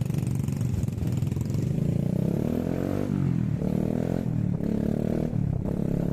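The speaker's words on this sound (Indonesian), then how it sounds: "Ojek di sini sangatlah unik, semua menggunakan motor Yamaha Jupiter lama, dengan spek mesin yang masih orisinil" An old Yamaha Jupiter motorcycle taxi with original engine specs drones steadily while riding, the engine pitch rising and falling as it shifts and accelerates, loud and close throughout.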